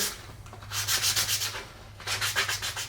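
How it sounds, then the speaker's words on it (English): Sandpaper rubbing across end-grain wooden segments for a segmented Christmas ornament, a close, steady back-and-forth scratching in two bursts with no talking. "I'm just continuing to sand through my segments here."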